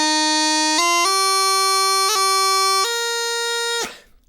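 Bagpipes play the opening bar of Lochanside without embellishments, starting on D, several sustained melody notes stepping over a steady drone, loud and close, then the pipes cut off abruptly.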